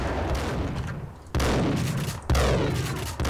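Gunfire in the video game Max Payne during a sniper tower fight: loud bursts of shots crack out in two heavy volleys over a dense, echoing rumble of continuous firing.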